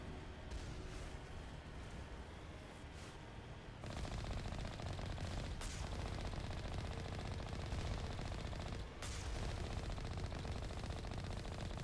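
Sustained gunfire from enemy turrets shooting at the player in the video game Mass Effect, a dense continuous rattle of shots that grows louder and heavier partway through, with brief sharp bursts standing out above the steady barrage.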